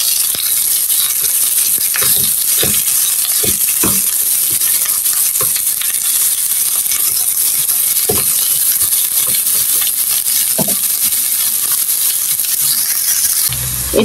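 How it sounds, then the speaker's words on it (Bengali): Onion and garlic fry in oil with a steady, bright sizzle throughout, broken by intermittent scraping and stirring clinks of a utensil against the pan, close and without talk. "ভালো করে এখন আমি ভালো করে লাল লাল করে আমি ভেজে নিব।"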